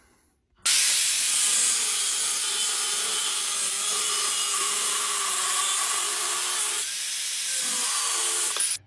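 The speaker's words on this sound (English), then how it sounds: "So the first one's cut, and I used the grinder." Angle grinder cutting through a Chevy steering shaft on a 1940 CMP F8, a loud continuous hissing, grinding roar that holds steady for several seconds before cutting off abruptly.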